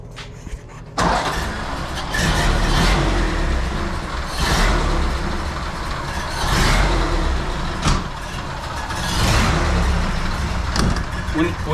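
1931 Ford Model A engine just started and running, a loud, rough, steady idle with surging pulses, close by, with people talking over it.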